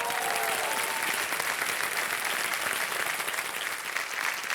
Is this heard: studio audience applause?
yes